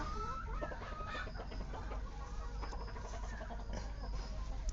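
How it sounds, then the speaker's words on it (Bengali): Kadaknath chickens cluck repeatedly in short bursts, close by, with a steady low farmyard hum underneath and no talking. "দেখুন এটা একটা করকনাথ মুরগি"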